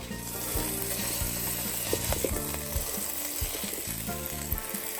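Beef sizzles and crackles loudly in a hot pan as it is mashed down with a masher while rendering, the steady frying hiss broken by scraping knocks against the pan.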